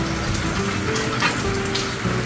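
Heavy rain falls steadily outdoors near a grill where red snapper cooks, a dense continuous patter and hiss filling the whole stretch at a constant level, with no voices.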